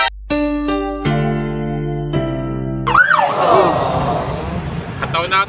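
A fire truck siren wails loudly with clear tonal steps, then gives way to traffic noise and shifting whoops as the truck passes close by.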